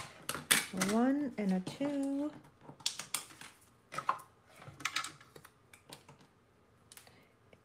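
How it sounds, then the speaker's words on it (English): Mini Stampin' Cut and Emboss machine cutting out a paper succulent shape, heard as a series of close, crisp mechanical clicks and clacks, with a voice speaking briefly at the start. "I'm using the mini Stampin' Cut and Emboss machine"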